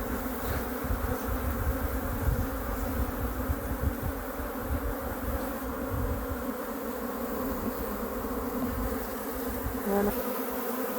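Honeybees swarm over an open frame of brood, honey and pollen from a small nucleus hive, making a dense, steady buzz that stays close and fairly loud throughout with no voices.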